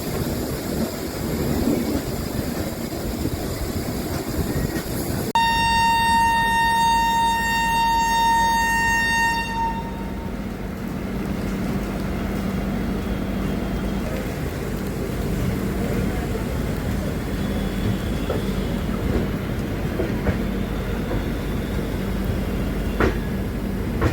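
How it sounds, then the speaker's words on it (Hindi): Shatabdi Express train departing Moradabad Junction, a sustained horn blast at the start, then steady rolling rumble and wind noise as the train pulls out, loud and close. "9 मिनट डिले के साथ हमारी ट्रेन का मुरादाबाद जंक्शन से डिपार्चर हो जाता है।"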